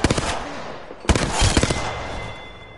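Bots firing weapons in the Apex Legends video game, two quick bursts of rapid gunshots, the second louder and longer, ringing out close with rattling impacts trailing off.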